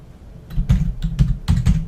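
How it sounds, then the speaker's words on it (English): Computer keyboard typing while entering a drop-point address into a Maximo desktop requisition form: several quick clusters of keystrokes, close and fairly loud, with short pauses between bursts and no talking. "I'm going to type in the drop point."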